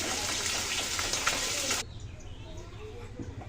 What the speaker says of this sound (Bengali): তেল গরম হয়ে গেছে কুমড়ো বড়িগুলো ভেজে নিচ্ছি